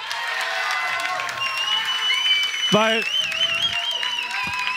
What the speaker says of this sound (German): dann hat er wirklich mal einen Applaus dafür verdient